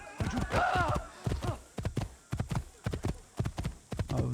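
Rhythmic clip-clop of horse hooves in Assassin's Creed, steady and fairly close, continuing throughout with a brief voice-like sound in places.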